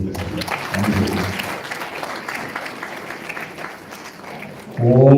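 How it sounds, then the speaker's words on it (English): Applause from a wedding crowd fills the room, a steady continuous clapping that swells louder near the end, with some voices mixed in. "A round of applause, ladies and gentlemen."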